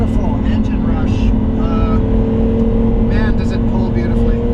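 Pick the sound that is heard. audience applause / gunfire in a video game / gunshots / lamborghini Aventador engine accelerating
lamborghini Aventador engine accelerating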